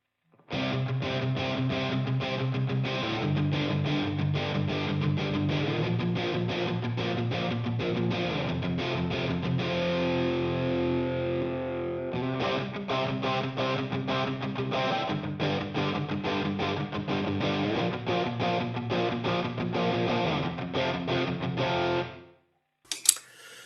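Heavily distorted electric guitar run through a Headrush multi-effects processor with phase inversion, playing dense chords and riffs for over twenty seconds, loud and continuous, then stopping abruptly near the end.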